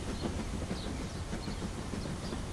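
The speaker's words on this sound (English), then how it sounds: "Mr. Train is going up a ramp." Cartoon train going up a ramp gives a steady rumbling, clattering rail roll, moderately loud and continuous, with no voices over it.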